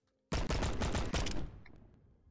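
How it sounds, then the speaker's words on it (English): A modded gun in a video game fires a rapid, loud burst of about a second, sharp cracks running together, then rings out and decays. "This thing sounds like a deagle for some reason."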